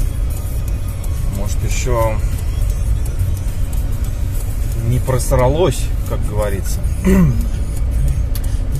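Steady in-cabin drone of a Kia Sorento with a 3.5L engine driving after its catalytic converters were removed, a constant low engine and road rumble throughout, with someone speaking briefly over it.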